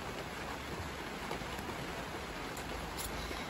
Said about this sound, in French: vous entendez sûrement qu'il pleut